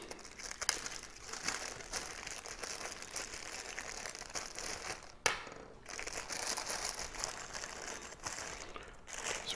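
Small plastic bag of carburetor parts for a Briggs & Stratton engine being handled, faint close crinkling and rustling throughout with one sharper crackle midway.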